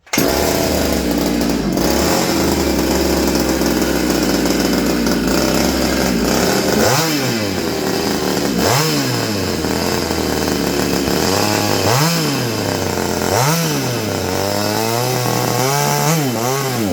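A McCulloch BP1 chainsaw engine runs loud and close, revving up and down in repeated surges over a steady roar, with no talking.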